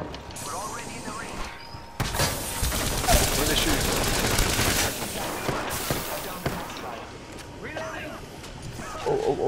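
Bursts of rapid automatic gunfire in the video game Apex Legends, loud and sustained for several seconds, with a player's voice talking over parts of it.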